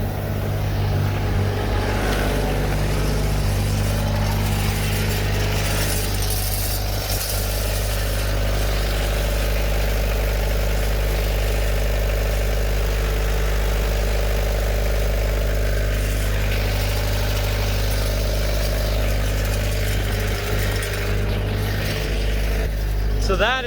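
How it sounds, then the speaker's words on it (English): A 12-valve Cummins diesel in a Ford F-450 idles with a loud, steady, close rumble throughout, with someone talking over it. "She fires right up."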